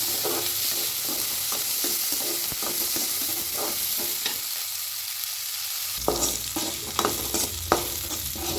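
Shallots, garlic, curry leaves, cumin and pepper sautéing in hot oil for a homemade egg gravy, a steady loud sizzle broken by repeated scrapes of a stirring spoon against the pan.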